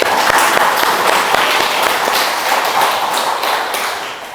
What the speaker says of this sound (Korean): 박수 한번 해주십시다.